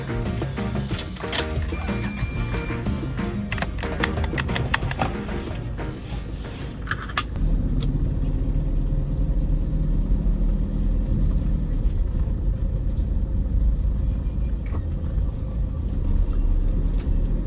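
A car engine runs while driving, giving a steady low rumble and road drone that stays loud and continuous for the whole stretch, with a busier burst of crackling noise early on.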